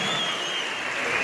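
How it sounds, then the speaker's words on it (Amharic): A large crowd of agricultural development workers at a training completion ceremony in Central Ethiopia applauds themselves, producing a continuous, even wash of clapping with no voices heard. "የመጨረሻውን ጭብጨባ ለራሳችሁ።"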